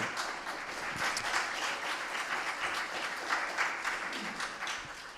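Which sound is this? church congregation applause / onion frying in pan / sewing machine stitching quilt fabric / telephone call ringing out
church congregation applause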